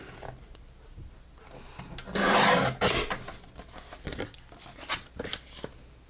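Craft material trimmed off the bottom, a close rasping, rubbing cut with one sustained loud stroke and several shorter scraping passes around it, no talk.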